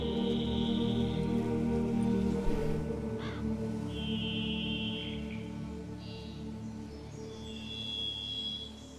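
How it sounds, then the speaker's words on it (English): A crow in Witcher 3: Blood and Wine caws a few times at moderate distance, short raspy calls over a steady low ambient drone, with no speech. "Is it talking to a crow?"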